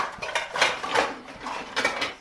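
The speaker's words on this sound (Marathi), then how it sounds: "आता मी कढई ठेवते" A metal kadhai (wok) is set down on a home kitchen stove while bitter gourd sabzi and rotis are being made, giving a short run of close, sharp metallic clanks and scrapes in irregular bursts, with no talking.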